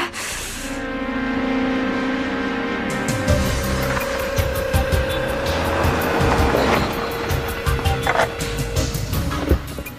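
A car pulls up close by with a rough engine drone and a brief tire squeal, running steadily for about ten seconds with no voices.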